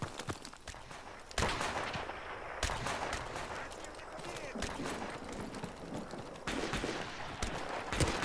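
Rapid semi-automatic gunfire in Call of Duty: Modern Warfare Remastered, with sharp loud shots fired in quick irregular bursts over a busy battlefield background and occasional voice chatter.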